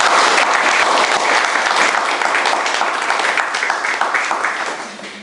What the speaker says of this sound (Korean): 우리가 이 자리를 빌어서 한번 박수를 쳐드리는 것이 어떤가 생각을